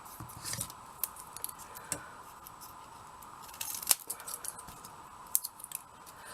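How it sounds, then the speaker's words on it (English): Scissors snip around paper for a miniature box, a series of close, crisp cuts at an irregular pace over a low steady background hum. "I took my scissors and I chopped around it"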